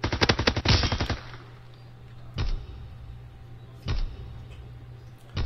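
Call of Duty WW2 gunfire: a loud rapid burst of automatic shots opens, then a low steady hum and two or three separate heavy thuds spaced a second or so apart.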